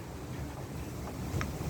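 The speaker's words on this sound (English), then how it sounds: "It is very windy today." Steady, gusty wind rushes and buffets a microphone outdoors, a continuous broadband roar with a few brief bumps and no talking.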